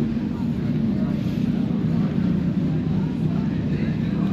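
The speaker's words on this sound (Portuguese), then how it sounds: "E mais motos, não acabam" Motorcycles rumble past at the Gaia quay as a continuous, loud low engine drone with no clear single pass standing out.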